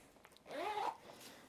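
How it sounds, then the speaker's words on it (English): A single quick zip pulls along the zipper of GoreTex waterproof trousers, close and fairly soft, in a quiet room with no talking. "And obviously then there's the zip from the top."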